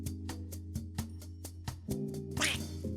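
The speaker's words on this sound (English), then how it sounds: "The biggest feature of this game is that the duck can quack" Cartoonish duck quacks from the platformer game Dodo Duckie, repeated rapidly and steadily about nine times over bouncy game music, followed by a brighter burst near the end.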